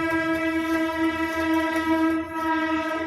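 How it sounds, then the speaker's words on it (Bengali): A train rumbles past nearby with a loud, sustained horn blaring throughout, layered over the steady roar of wheels on track. "ট্রেনের কি আওয়াজ দেখছে বন্ধুরা প্রচুর ট্রেন যায় এখান দিয়ে"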